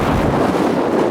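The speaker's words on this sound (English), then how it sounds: "it's getting a little bit windy" Strong storm wind roaring across the microphone on Glastonbury Tor during Storm Eunice, a loud, dense, unbroken buffeting rush that fills the short moment with no voices.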